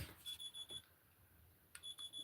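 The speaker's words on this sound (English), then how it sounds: "turn off that alarm because it's not going to turn off. It's going to keep on annoying me." An alarm going off in a crafting room, sounding in a few short high-pitched beeping bursts separated by a pause, loud and close with no talking.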